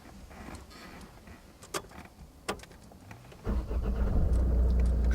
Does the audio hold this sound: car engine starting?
yes